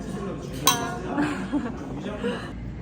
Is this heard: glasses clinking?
yes